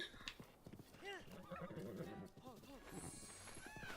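In the video game The Legend of Zelda: Breath of the Wild, a horse whinnies loudly over clopping hooves, with a second neigh and quick hoofbeats following.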